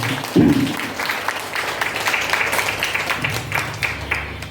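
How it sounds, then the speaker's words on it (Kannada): An audience claps during a Kannada history lecture; a loud initial burst, then a steady patter of scattered hand claps and crowd murmur over a few seconds, at moderate distance. "ಚಪ್ಪಾಳೆ ಹೊಡಿಬೋದು"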